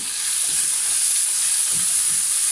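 Ground meat sizzles loudly and steadily in a hot pan while being stirred for an Italian-style pasta gratin, a dense close hiss with faint soft scraping underneath.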